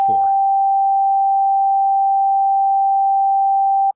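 A single steady pure sine tone, a G4 from a synthesizer, holds for about four seconds after a brief burst of speech, then cuts off abruptly.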